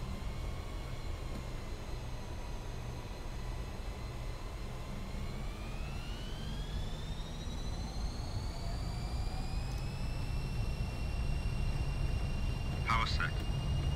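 Twin jet engines of a Fokker F28 in a flight simulator roar steadily during the takeoff roll, their whine rising in pitch as power builds, with a brief voice near the end.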